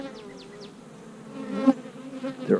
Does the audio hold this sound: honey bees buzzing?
yes